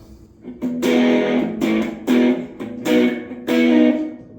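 An electric guitar through a Positive Grid Spark Go amp's light overdrive preset plays a few sustained, slightly gritty chords, each ringing out before the next.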